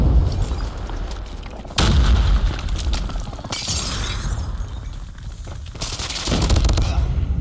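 Loud video game combat with sudden explosive blasts at intervals, a grenade detonation among them, amid rattling gunfire, crackling debris and a continuous battle din.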